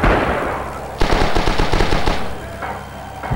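Rapid bursts of automatic gunfire and rifle shots ring out loud and close in the World War II shooter Rising Storm on the Phosphate Plant map, a dense volley after a brief pause.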